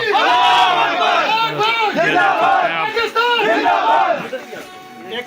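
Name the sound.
soldiers chanting Pakistan Army slogans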